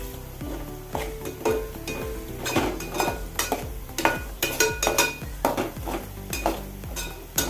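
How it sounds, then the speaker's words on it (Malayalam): A spoon stirs chopped mango in hot oil in a metal pan, the scrapes and clinks landing in a steady, repeated rhythm over a light sizzle, close and fairly loud, with no voices. "മാങ്ങയും ചുറ്റി കൊടുക്കാം നല്ലപോലെ ഒന്ന് ഇളക്കി കൊടുക്കുക"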